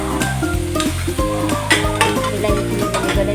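Tomatoes frying and softening in a pan for a small-fish curry, with steady close sizzling and bubbling, stirring scrapes and clatter running throughout, no talking.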